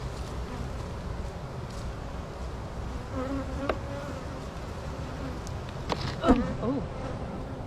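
Honey bees swarm around an open hive in a constant close buzzing drone, with a couple of faint brief sounds rising over the hum.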